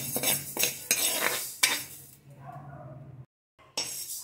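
A utensil scraping and clinking against a pan while fenugreek seeds are stirred and roasted, several sharp metallic strokes followed by quieter rustling and a brief silence.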